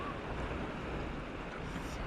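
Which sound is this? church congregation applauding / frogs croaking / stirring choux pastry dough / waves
waves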